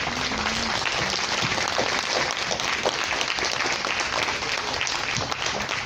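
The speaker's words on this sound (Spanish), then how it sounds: "Démosle un fuerte aplauso al Señor." A church congregation breaks into loud, continuous applause in praise, a thick wash of many hands clapping with a brief voice at the start.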